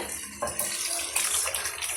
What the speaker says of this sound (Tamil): நான் பருப்பு வெந்த பிறகு ஒரு டம்ளர் அளவுக்கு மட்டும் நான் தண்ணி சேர்த்துக்கிட்டேன்